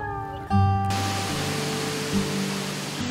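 Lower Falls waterfall in a Virginia national park, a steady broadband rush of falling water that fills the clip, with a brief tonal hum and clatter near the start.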